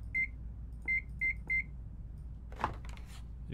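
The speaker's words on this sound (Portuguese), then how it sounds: "Micro-ondas." Microwave oven in the video game Pollen, four short electronic beeps in quick succession followed by a clunk and humming rattle, loud and close with no talk.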